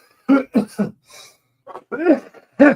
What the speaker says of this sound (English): got a cough, can't get rid of.